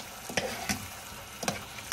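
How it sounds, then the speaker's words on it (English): Onion, garlic and tomato paste sautéing in a pan, a low steady sizzle broken by several scraping stirs of a utensil, fairly quiet and close, with no voices. "saute the tomato paste. That's what I'm trying to do right now with the onion and the garlic"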